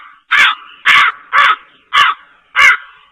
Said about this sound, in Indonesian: Anak di dalam kamar mendengar suara burung gagak di halaman belakang.